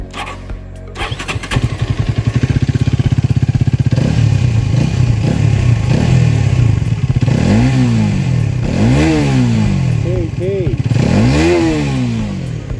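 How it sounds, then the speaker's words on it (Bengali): A Hero Karizma XMR 210cc motorcycle starts up close by, then idles with a steady throb before its exhaust is revved in several rising and falling blips, loud and near. "আর এক্সস্টের সাউন্ড একটু আপনাদেরকে শোনাই।"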